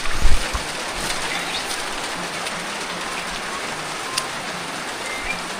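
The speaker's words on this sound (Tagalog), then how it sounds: "Naabutan na naman ng ulan." Rain falling steadily in a dense, even hiss of drops on surfaces, with a brief knock near the start and a few faint taps scattered through.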